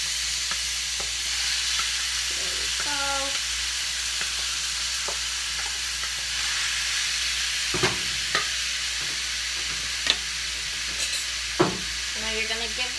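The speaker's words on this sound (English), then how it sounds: "And another good sizzle." Continuous loud sizzle of spaghetti squash frying in a pan for aglio e olio, with occasional scraping stirs and clanks; a voice speaks briefly.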